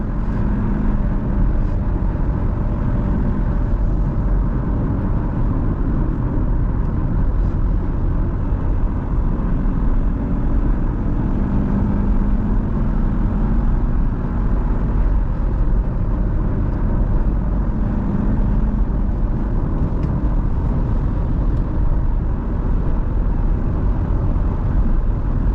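A car with 100,000 km on it and a turbo pulls hard in third gear and shifts up, a loud continuous engine drone with road and wind noise filling the cabin throughout.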